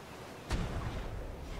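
A single deep cannon boom from a ship's cannon in the video game ARK: Survival Evolved, with a sharp onset, followed by a rumbling low tail, set against steady background noise.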